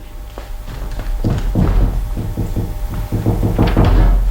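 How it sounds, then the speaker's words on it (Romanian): Knocking on a wooden door in a Romanian radio theatre play: a series of firm, hollow thuds, loud and close, in an irregular rhythm of about a dozen knocks, with no voices over it. "cioc, cioc să bat."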